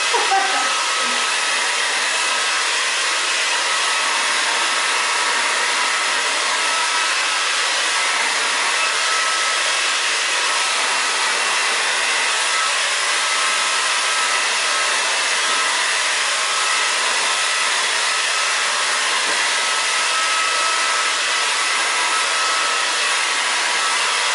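Continuous loud roar of a blow dryer running close by, holding an even airy hiss throughout with no talking.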